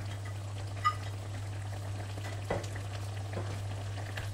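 Small pieces of tilapia fry in a pan of hot oil for sarsiadong tilapia, giving a steady soft sizzle close by with a few brief spatters and pan taps, no voices.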